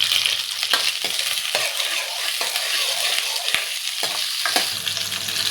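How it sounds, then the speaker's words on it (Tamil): Curry leaves dropped into hot oil while tempering hotel-style sambar, a loud continuous sizzle and crackle with occasional stirring clinks, no talking. "கருவேப்பிலை கொஞ்சம் சேர்த்துக்கிறேன்."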